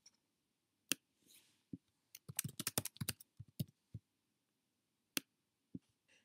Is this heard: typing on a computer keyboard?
yes